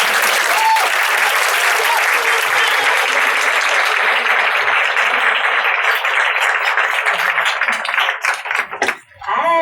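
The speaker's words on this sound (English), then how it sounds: "Please give our guest a round of applause" Audience applause fills a comedy talk show as the guest is welcomed, a dense, loud wash of clapping that holds steady before thinning and fading out near the end.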